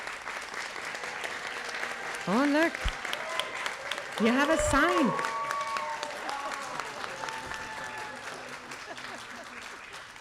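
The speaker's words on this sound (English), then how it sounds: "Will you please give her a round of applause?" Audience applause at a school district board meeting, a sustained patter of clapping under which people talk and a voice rises in exclamation, fading gradually toward the end.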